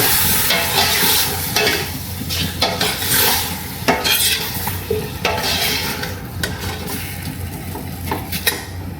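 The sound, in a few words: stirring chicken sinigang in a pot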